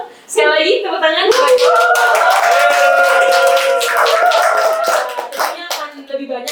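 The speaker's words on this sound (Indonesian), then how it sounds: "Sekali lagi tepuk tangan" Audience clapping at the close of a podcast episode, a dense steady burst of hands that swells quickly and fades after several seconds, with voices and cheers mixed in.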